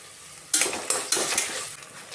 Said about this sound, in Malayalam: ഇഞ്ചി വെളുത്തുള്ളിയൊക്കെ ഇങ്ങനെ ഇളക്കി മറച്ച് കൊടുത്തിട്ടുണ്ട്